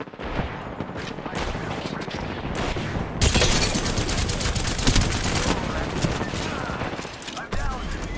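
Rapid gunfire fills an Apex Legends match with dense, overlapping automatic bursts. The fire is loud and sustained, thickens midway, and carries game effects and occasional voices.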